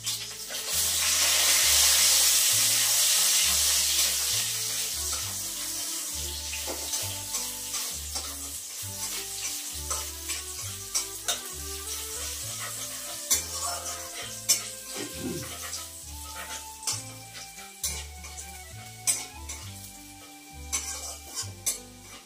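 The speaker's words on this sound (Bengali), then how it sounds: "আদা রসুনটা আগে দিয়ে এই যে অল্প করে ভেজে নিলাম" Ginger and garlic sizzle loudly in a pan for a sustained stretch, with rhythmic utensil scrapes and clinks as they are stirred nearby, and no one speaking.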